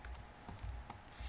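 Quiet, close computer keyboard typing as a cryptsetup command is entered on a Linux machine, a handful of crisp, irregularly spaced keystrokes over a low background hum.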